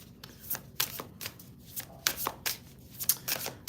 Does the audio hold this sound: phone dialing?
no